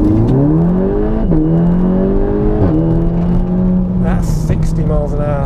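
A tuned 395 hp Volkswagen Golf R Mk7 launches hard from inside the cabin, its engine note loud and close, rising through the revs, dipping at gear changes and climbing again. A person speaks over it.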